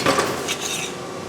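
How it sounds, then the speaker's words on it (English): Metal flange being cut down in a fabrication shop, a close clanking metallic rattle with a few sharp hits at the start, then a steady harsh ringing scrape. "I'm going to cut this flange down."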